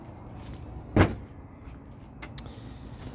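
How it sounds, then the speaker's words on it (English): A 2022 Ford Escape power liftgate closing at the press of a button: one firm thud near the start, then quiet motor hum and a faint latch click, no speech. "So you can also close it up here with a button"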